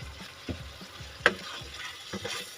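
Cauliflower korma with green chili paste being stirred in a pan, giving soft scraping strokes at a steady rhythm with a low sizzle underneath and one sharp clink of the spoon.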